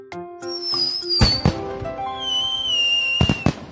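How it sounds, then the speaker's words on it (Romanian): Fireworks in a children's cartoon scene: rising whistles trail into several sharp bangs and crackles, loud and close, with two main bursts spaced apart. "Artificii!"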